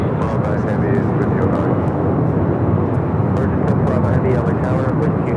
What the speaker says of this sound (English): we do have KLM now marching up here for north side at takeoff